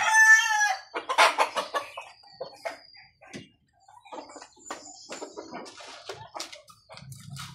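Backyard chickens clucking in short bursts, with a rooster crowing near the start, close and fairly loud against quiet surroundings; a brief low-pitched rumble near the end.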